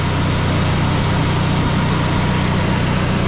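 An old 6-volt tractor engine idles steadily after a cold start, a close, even low rumble with a regular chugging pulse and no voices.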